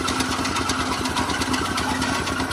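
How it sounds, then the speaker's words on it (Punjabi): A fodder cutter machine for chopping green crops runs steadily up close, its engine a loud, even, rapid chugging clatter with no pauses. "ਦੇਖੋ ਜੀ ਫਿੰਗਰਾਂ ਦੇ ਵਿੱਚ ਬਲੇਡ ਨੇ ਇਹਦੇ, ਤੂੜੀ ਵਾਲੀ ਮਸ਼ੀਨ ਵਾਂਗੂ ਉਹਨਾਂ ਦੇ ਨਾਲ ਇਹ ਜਮਾਂ ਆਸਾਨੀ ਨਾਲ 3 ਫੁੱਟ ਤੱਕ ਦੀਆਂ ਸਾਰੀਆਂ ਫਸਲਾਂ ਨੂੰ ਵੱਢ ਦਿੰਦੀ ਹੈ।"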